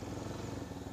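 A motorcycle engine drones steadily at close range during a road test on a mountain highway, a continuous low rumble with even pulsing and no talk.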